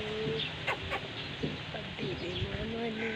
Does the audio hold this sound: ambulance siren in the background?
no